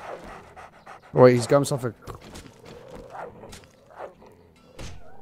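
A dog in the modded survival game 7 Days to Die pants in a quick, breathy burst, fairly close and loud, while players talk over the scene.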